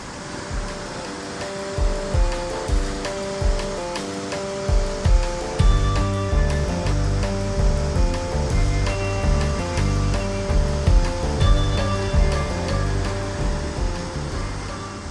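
Cedar Creek Falls in San Diego, heard from inside a cave: a dense, continuous roar of falling water with rhythmic surging splashes, loud and close throughout, no voices.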